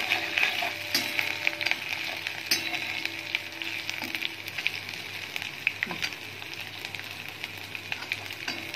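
Cumin and garlic sizzling in hot oil for Indian dal tadka, a steady close crackling fry with scattered sharp pops and faint stirring scrapes throughout.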